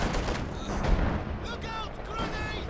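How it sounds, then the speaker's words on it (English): A heavy mortar shell detonating in a Company of Heroes 2 battle, a booming impact amid scattered gunfire, with a voice commenting over the action. "Wow, that heavy mortar shell."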